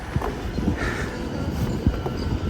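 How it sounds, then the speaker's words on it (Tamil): A train passes in Kawaguchi, Japan, a steady rumble with periodic low thumps of wheels over rail joints, heard at moderate distance with no talk. "ஸோ பாருங்கள் ட்ரெயின் போகுது பாருங்கள்."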